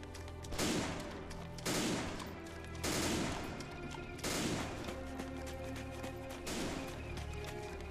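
Bursts of gunfire crack out repeatedly over a constant rumbling background, several volleys in a row, fairly distant and with game-like sound effects, in the video game Iron Front: Liberation 1944.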